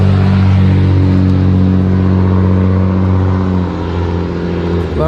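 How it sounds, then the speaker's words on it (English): Pickup truck hauling a large camper uphill past an RV park on Memorial Day, a loud, close, low engine drone that holds steady, then eases slightly as it passes. "that was a truck pulling a big camper up the hill"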